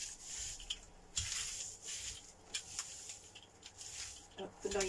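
Soft rubbery rolling of a brayer over a gelli printing plate during a craft print session, faint intermittent rubbing strokes with a few sharper sticky bursts, close and quiet.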